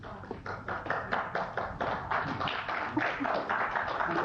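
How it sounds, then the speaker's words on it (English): Muffled applause fills a public commission meeting room in Sacramento, a steady, dense patter of many hands clapping at moderate distance, even and sustained throughout without speech. "The applause was muffled but very gratefully received"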